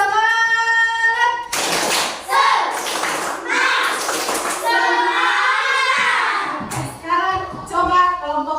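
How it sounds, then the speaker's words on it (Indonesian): Schoolchildren in a classroom chant and clap together in a rhythmic spirit clap, sharp hand claps in bursts mixed with young voices, close and loud. "Selanjutnya, kita tepuk semangat dulu. Tepuk semangat."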